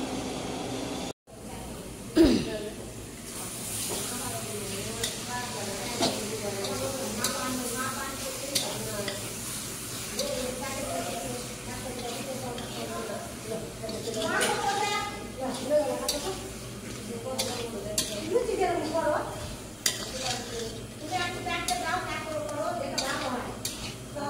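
Luchi fry in hot oil, a continuous low sizzle with occasional clinks of a utensil against the pan, heard under people talking nearby.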